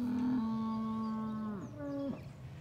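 A cow moos close by in a farm field, one long, loud, steady low call that drops and then breaks into a shorter second call, with no talk over it.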